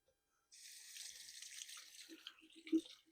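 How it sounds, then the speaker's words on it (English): Cold tap water running over beef bones in a sink for rinsing, a soft hiss of flowing water with light splashes and a small knock near the end, close and quiet, no talk. "So you take the bones and you give them a rinse in cold water."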